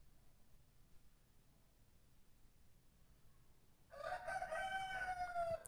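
A rooster crows close by in a single long, loud cock-a-doodle-doo. It breaks in after several seconds of quiet indoor room hum during a tattoo session.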